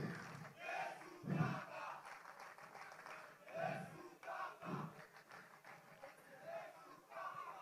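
A gospel rap event audience applauds and shouts with scattered cheers, a crowd roar swelling and fading over several seconds, with voices mixed through the noise.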